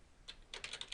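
A short burst of quick, crisp keystrokes on a computer keyboard as a column name is typed, a few clicks and then a rapid cluster.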